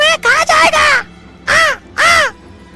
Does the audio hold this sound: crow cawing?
yes